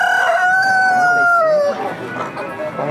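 A rooster crows loudly and close at a free-range chicken fair in Campina Grande, one long drawn-out cock-a-doodle-doo, then fair chatter and clucking continue beneath.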